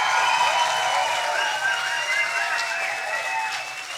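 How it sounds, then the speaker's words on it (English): Audience at a science slam during Berlin Science Week applauding: sustained, fairly loud clapping from a full hall with some whoops, holding steady and thinning slightly toward the end. "How does a stage 10 applause sound like tonight?"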